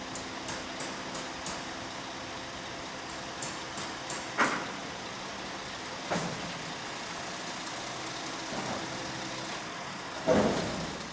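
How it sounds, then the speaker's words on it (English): Heavy truck-mounted hoist lowering an empty metal silo, with a low mechanical drone and several sharp clanks and thuds spaced a few seconds apart, the loudest near the end. "The silo is empty, so a truck has come to take the silo away."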